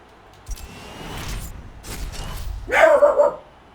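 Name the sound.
dog barking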